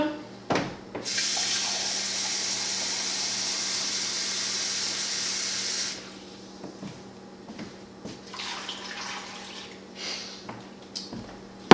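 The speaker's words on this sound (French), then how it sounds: "je vais rajouter de l'eau et un petit peu de poudre" Water runs steadily from a tap for several seconds while cooking asparagus broth, then stops, followed by softer kitchen clatter and light splashing.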